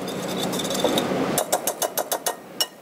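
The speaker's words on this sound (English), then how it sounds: "I'm going to whisk this together just a little bit," Whisk beating a garlic-herb butter mixture with black pepper in a bowl: a steady scraping swirl that shifts into a quick series of rhythmic metallic clicks against the bowl, close and fairly loud.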